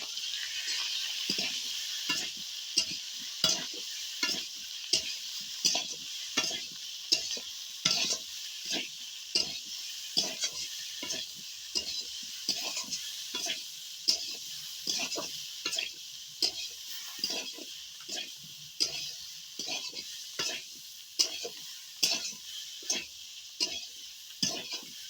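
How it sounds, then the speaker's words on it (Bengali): Fish curry with chili powder is stirred in a sizzling pan, a steady frying hiss broken by regular scraping strokes of a spoon against the pan, repeating about once a second over the whole stretch. "একটু ঝালের গুঁড়ো দিয়ে দেব 2 চামচ, দিয়ে একটু নেড়ে চেড়ে নেব।"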